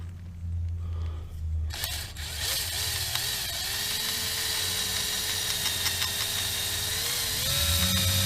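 A power drill with a left-handed bit bores out a broken screw on a BMW K1200R motorcycle, a steady whining tone running continuously for several seconds after a brief quieter start, close and loud.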